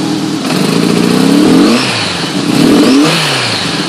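A Honda GL1200 motorcycle engine being worked on for a fault revs twice in quick succession after the choke is backed off, each rise and fall loud and close, settling back to a rough idle between.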